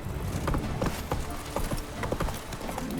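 Roach, the horse in The Witcher 3: Wild Hunt's Blood and Wine expansion, gallops in a quick, rhythmic clip-clop of hooves, close and steady for the whole stretch.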